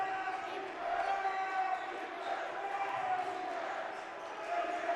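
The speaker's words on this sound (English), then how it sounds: "As you can hear the student section getting involved here with the cheer team." Student section and cheer team chanting together during a BGSU Falcons men's college basketball game, a loud, sustained crowd roar with rising and falling voices and a ball bouncing, under a broadcaster's voice.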